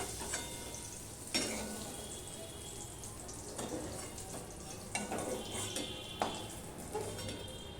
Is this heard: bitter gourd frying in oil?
yes